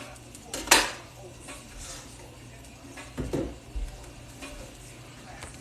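Fennel bulb and onion go into a pot for cioppino, giving a soft, quiet cooking hiss with a couple of sharp utensil knocks and scrapes against the pot, close by, no talking.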